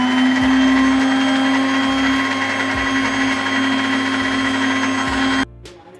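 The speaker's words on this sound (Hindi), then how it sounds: "तो इसको मशीन को चलाते हैं, इसको अच्छे तरह से हम ब्लेंड कर लेते हैं।" A countertop blender whirs steadily and loudly while blending coconut cake ingredients, its motor droning for about five seconds before cutting off abruptly near the end.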